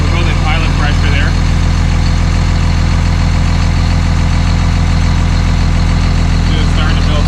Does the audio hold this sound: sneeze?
no